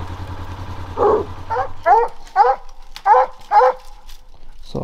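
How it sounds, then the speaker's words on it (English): Coonhounds bark several times in a steady series of loud, close barks, with a low rumble fading out at the start, in the southern New Mexico desert. "I had both dogs barking."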